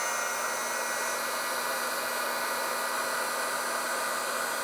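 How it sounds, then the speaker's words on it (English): A heat gun blows a steady, even hiss and whir at moderate distance while heating a crimped connector on trailer wiring in a 2023 Ford, with the airflow unchanging and continuous from start to end. "Now I'll grab a heat gun and get this heated up."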